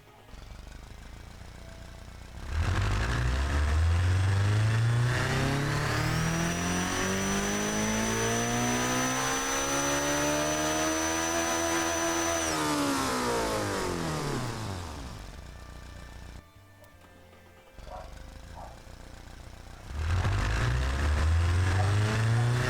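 A video game car engine revs up from idle on a dyno, its pitch climbing steadily to a sustained high whine, then falls back down; a second rev begins at the end.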